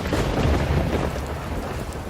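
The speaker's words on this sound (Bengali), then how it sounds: "চারিদিকে তখন মুষলধারে বৃষ্টি জোরে জোরে বাতাস বইছে আর মাঝে মাঝে বিদ্যুৎ চমকে উঠছে আকাশে" Heavy downpour with rumbling thunder as a cartoon sound effect, a dense, loud and continuous roar of rain with low booming underneath.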